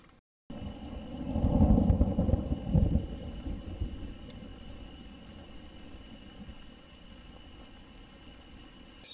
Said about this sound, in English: So it's starting to sprinkle a little bit.